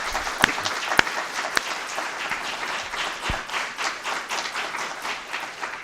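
An audience applauds its briefers at a hearing on environmental justice mapping, a steady patter of many hands with a few sharper claps standing out, moderately loud and continuous throughout.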